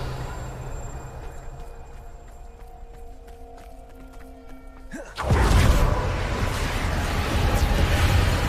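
A Revelio spell cast in Hogwarts Legacy, heard as a sudden bright, loud whoosh that swells in and then holds as a broad shimmering wash over quieter tonal game ambience.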